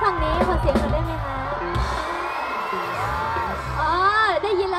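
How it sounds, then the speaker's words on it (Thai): A crowd at an outdoor anti-drug music concert whoops and cheers after a performer asks for noise, with scattered shouts and high yells rising over a murmur, and a voice speaking early on. "ทุกคนตะโกนส่งเสียงได้นะคะ"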